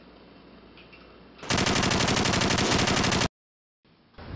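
A staple gun fires in a fast continuous burst like a machine gun, a loud dense rattle lasting about two seconds after a quieter room tone, then an abrupt silence before the background returns.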